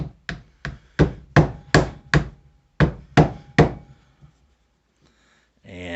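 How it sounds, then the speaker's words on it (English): About nine sharp metallic hammer taps on an Iver Johnson trigger pin in an irregular rhythm, close and fairly loud, followed by quiet and a brief sound at the end. "We're going to take our hammer"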